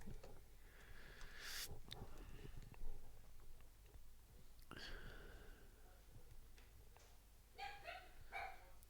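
A dog barks a few times in the background of a Lorcana card tournament broadcast, with short yaps rising over a steady room murmur and quiet commentary.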